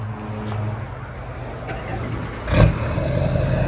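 Chevrolet L5P Duramax diesel truck engine cranking and catching with a brief loud burst, then settling into a low rumble, heard up close.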